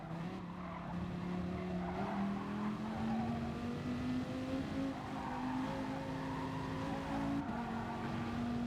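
Dodge Viper SRT race car in Gran Turismo Sport, its engine droning and rising in pitch through a downshift into a corner while the tires squeal and skid.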